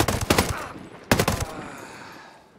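Rapid bursts of VHSD2 rifle fire in the Ghost Recon Breakpoint shooter game during open combat at an enemy base, two loud volleys separated by a brief pause, then a fading tail.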